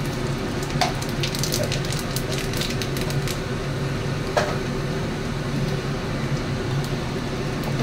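Black cumin seeds sizzle in hot oil in a pan with small eggplants, a steady close frying crackle with scattered sharp pops throughout.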